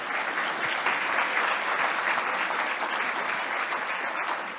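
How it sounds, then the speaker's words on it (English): A conference audience claps in a full, continuous round of applause that holds steady and fades slightly at the end. "So a round of applause to Anna right now, please."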